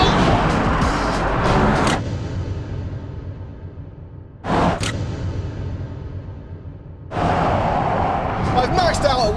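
Electric pickup trucks, a GMC Hummer EV and a Rivian R1T, launch hard in a drag race, a loud broadband whoosh of motors and tyres in three surging bursts separated by quieter stretches, close to the microphone.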